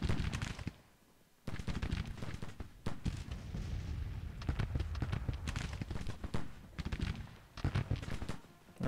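An infantry brigade fires musket volleys at close range against advancing cavalry in Grand Tactician: The Civil War, at the Battle of Pea Ridge. Repeated ragged crackling bursts of gunfire arrive in clusters, moderately distant, with a brief lull early on.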